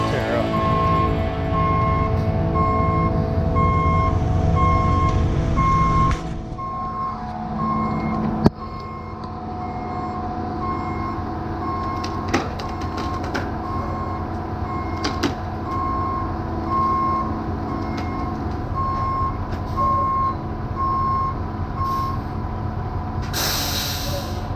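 A concrete truck reverses at a job site, its backup alarm beeping in a steady, evenly spaced pattern over a low engine rumble, with occasional clanks and an air-brake hiss.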